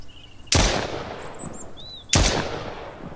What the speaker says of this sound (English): so the idea is to shoot this bear in the head